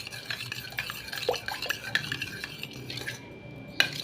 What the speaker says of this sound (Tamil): நெய் போட்டு நல்லா கலக்கிக்கணும்